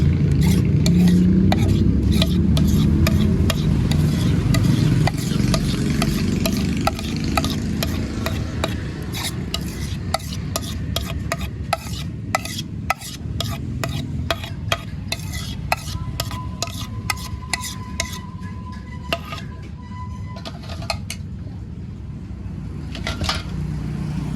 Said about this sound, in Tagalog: Haluin ko lang.